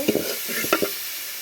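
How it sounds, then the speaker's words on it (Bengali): Turmeric and coriander powder stirred in hot oil for a chicken curry: a few quick scraping strokes over a soft, steady sizzle, close and moderately loud. "পরিমাণ মতো হলুদ গুঁড়া ধনিয়া গুঁড়া আর তেলের মধ্যে কিছুক্ষণ নাড়বো"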